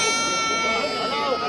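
Goats and sheep bleat at the busy Shirur goat and sheep market, a dense, continuous chorus of overlapping cries close by, mixed with crowd chatter.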